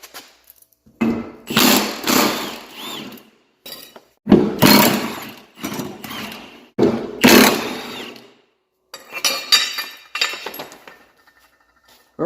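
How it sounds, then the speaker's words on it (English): A 24 mm socket on a wrench works the blade bolts off a Toro commercial walk-behind lawn mower, giving bursts of rapid metallic ratcheting and clinking separated by short silences. "24 millimeter socket will remove the bolt"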